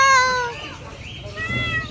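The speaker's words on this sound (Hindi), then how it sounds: "ये वाली बिल्ली देखे कैसे बोल दिया" A cat gives a drawn-out meow close by, loud at first and trailing off, then a second quieter meow follows near the end.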